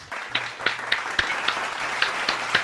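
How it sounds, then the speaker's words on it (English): Applause for a game show contestant comes as a thin, fairly faint patter with a few distinct claps at a steady beat standing out from the softer clapping. "So, ladies and gentlemen, please give a big round of applause to Corey Lawrence."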